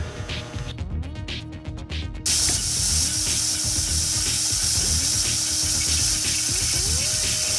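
A shop vac drones steadily while it draws brake fluid through the bleeder nipple of an ATV's front brake. Its loud motor whine and airy hiss jump up partway through as the suction opens, with no talking.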